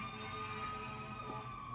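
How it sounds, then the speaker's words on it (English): The siren of a passing emergency vehicle, a faint, steady wail heard from a distance for a brief moment. "I'm sorry if you hear a siren."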